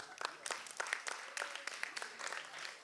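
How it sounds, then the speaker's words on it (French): Scattered applause at a student festival prize ceremony, fairly faint and thin, with several separate claps standing out from a light patter and a murmur of voices underneath. "Sous les applaudissements, s'il vous plaît"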